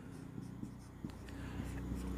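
A pen scratches out a partial derivative equation in short strokes and taps, faint and close, over a low steady hum.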